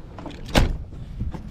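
Old door lock creaking as it is worked, one short squeaky burst in the middle with faint handling noises around it.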